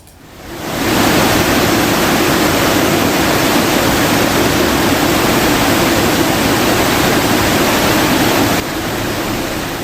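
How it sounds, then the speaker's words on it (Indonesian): Swollen Kali Buntung river in Yogyakarta overflowing after heavy rain, a loud steady broadband roar of rushing water that fills the whole stretch without a break. "Debit air Kali Buntung meluap usai diguyur hujan deras."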